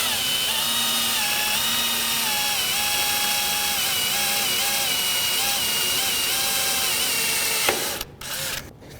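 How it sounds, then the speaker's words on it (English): A power drill drives a screw into a seal in one long, steady whine with slight pitch wobbles as the bit bites, then stops abruptly into a few brief clicks and rattles. "put a small hole into that seal and put a screw, and don't drill it in far"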